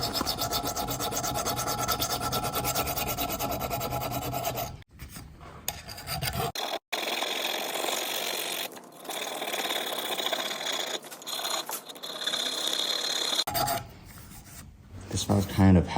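A small, slightly flexible hand file works across a warped golf putter head in continuous close rasping strokes, with brief breaks where the file is lifted before scraping resumes.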